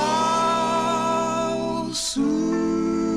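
A 1961 doo-wop vinyl record plays with sustained vocal harmonies and backing, briefly cut by a short burst of hiss before the music resumes.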